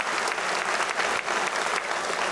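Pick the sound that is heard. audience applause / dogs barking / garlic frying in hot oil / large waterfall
audience applause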